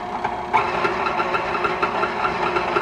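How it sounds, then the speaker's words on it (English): A kitchen stand mixer running on its lowest setting while mixing ingredients, a loud continuous motor whir with a rhythmic rattling knock throughout. "put our mixer down, make sure it's locked so nothing goes up, and we're just going to put it onto setting one"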